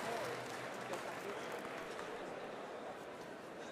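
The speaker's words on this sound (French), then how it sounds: "On peut applaudir, mesdames et messieurs, notre 8e équipe" At a culinary competition, a crowd claps for a cheese-and-chef cooking team, a steady moderate patter of many hands that fades slightly toward the end.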